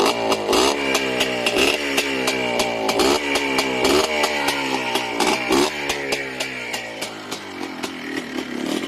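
A Yamaha Blaster 200 ATV engine idles after a cold start, a loud, close, raspy two-stroke putter with a rapid, uneven beat and slight revs that rise and fall.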